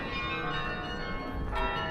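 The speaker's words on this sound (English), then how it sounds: "You could actually hear the church bells going off right now" Church bells of the Dom Tower in Utrecht ring steadily on a sunny day after rain, a dense, sustained wash of pealing tones heard at moderate distance with outdoor ambience.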